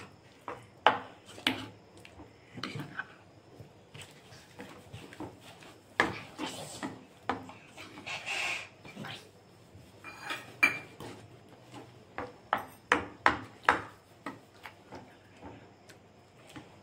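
A spoon stirs masala powder into an aloo tomato curry with added water in a pan, making irregular clinks and scrapes against the metal throughout, with a quick cluster of taps near the end.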